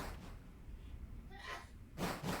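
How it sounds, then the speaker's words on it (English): A single sneeze bursts out close by in a quiet room: a sharp breathy gust followed by a quick second burst. "Charlie sneezed."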